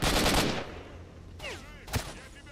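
Sniper shots ring out in S.T.A.L.K.E.R. Shadow of Chernobyl, set in the Red Forest: a loud burst at the start, then two sharp cracks about half a second apart, each trailing off.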